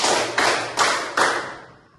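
A classroom of students claps in unison four times, four sharp broadband bursts evenly spaced about 0.4 seconds apart, each decaying quickly, with the last ringing out into room tone.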